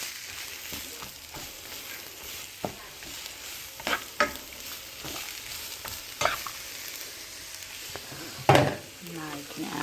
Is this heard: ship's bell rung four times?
no